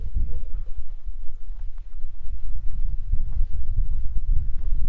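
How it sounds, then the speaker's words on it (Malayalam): Cold wind gusting on a mountain trek toward Namche Bazaar on the Everest Base Camp route, a continuous low rumbling buffet against the microphone, fairly loud and unbroken, with no speech. "നല്ല തണുത്ത കാറ്റ്."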